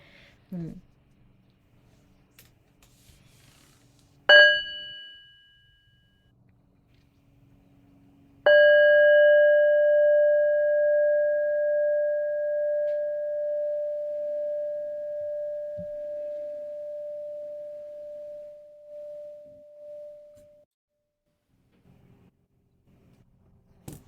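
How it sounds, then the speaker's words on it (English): A meditation bell is struck once with a brief tap, then given a full strike that rings out as a clear, pure tone and fades slowly over about twelve seconds, with a voice faintly at the start. "we'll listen to a sound of the bell together"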